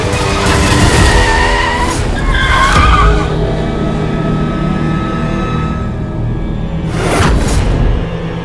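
A car in a Hindi TV drama scene brakes hard and skids to a stop, loud tire squeal and scrubbing over engine noise, with a second burst of skid noise near the end.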